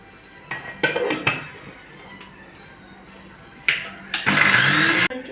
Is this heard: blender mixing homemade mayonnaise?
yes